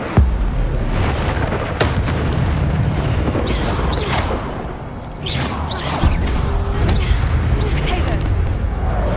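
Incendio fire spells burst in a Hogwarts Legacy fight, booming, crackling and whooshing over a continuous loud wash of combat noise, with a brief lull near the five-second mark before the blasts pick up again.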